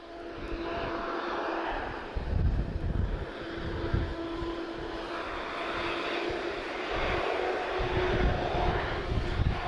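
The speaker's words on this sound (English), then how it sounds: "This is TP23, she's off to Salvador. This is Tango Uniform Hotel. It's an A330 Neo." A TAP Airbus A330neo airliner, flight TP23, at Lisbon Airport, its jet engines giving a sustained whining roar that swells and shifts over several seconds, heard from a windy spotting position.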